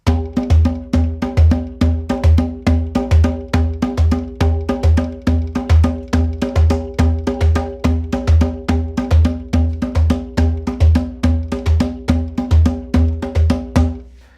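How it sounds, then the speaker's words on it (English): A hand drum steadily played in a two-against-three polymeter, its sharp, loud strikes falling in a continuous interlocking rhythm with ringing tones, alone without any talking. "So 2/3 sounds like this."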